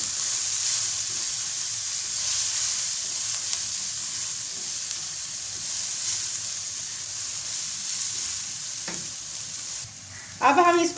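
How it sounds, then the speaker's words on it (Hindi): Dal palak with tomato sizzles steadily as it fries in a pan, with a constant high hiss, occasional scrapes of stirring, and a brief louder clatter near the end. "अब हम इसको मिक्स करके भूनेंगे।"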